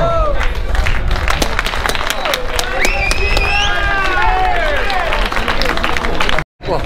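Crowd noise and clapping from spectators at an amateur fight among Rome's public housing blocks, a loud continuous babble with shouting voices and applause throughout, briefly cut near the end.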